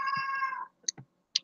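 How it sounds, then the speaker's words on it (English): A cat lets out one drawn-out, strained meow up close, followed by a few short clicks and small sounds in otherwise quiet surroundings. "My apologies for the screaming cat."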